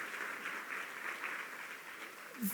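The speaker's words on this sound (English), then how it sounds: "a big round of applause for healthcare" Audience applause at a healthcare conference in the Cayman Islands, a brief soft patter of many hands clapping that swells slightly and fades.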